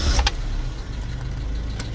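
Mazda B2000 pickup truck engine turning over with a brief burst at the start, then settling into a steady low idle that runs nearby and alone throughout.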